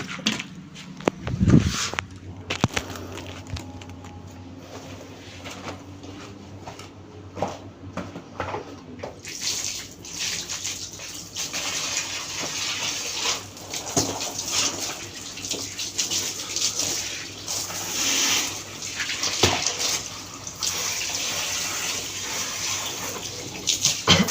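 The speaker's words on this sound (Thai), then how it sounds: "น้ำฉีดไล่ตะกอนออกทั้งหมดนะครับ" Hose water sprays hard and steadily to rinse sediment out of a swimming pool filter cartridge, a loud continuous hiss and splash with no talking.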